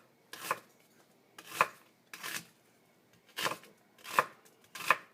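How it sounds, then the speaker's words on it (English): A knife slices through onions on a cutting board in six separate, brisk strokes with short pauses between, each a crisp rasping cut, close and fairly quiet with no talking. "first thing I'm going to do is just slice up the onions really quickly"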